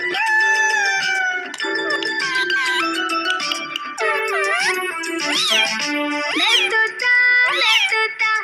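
A pet parrot imitates a cat, giving repeated rising-and-falling meow-like calls, some shrill and whistled, one after another at close range with no talk.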